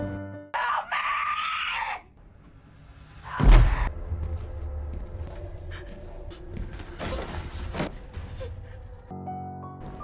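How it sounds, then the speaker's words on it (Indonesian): A woman screams for help in a Friday the 13th horror film, a loud strained cry followed by groans, creaks and rumbling movement, with a sharp burst partway through. "dia pun berteriak meminta tolong"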